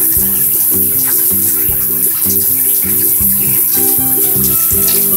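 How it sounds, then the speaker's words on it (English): A tap runs steadily into a sink as a mouth is rinsed after brushing teeth, with a continuous close splashing rush throughout and no talk over it. "Now, I gotta rinse my mouth."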